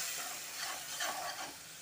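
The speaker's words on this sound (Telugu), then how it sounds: "ఈ పెరుగు బాగా కలుపుకోవాలి" Yogurt being stirred into a chicken 65 biryani mixture gives a soft, brief scrape and squelch of a spoon in a pot, fairly quiet and close, with no voices.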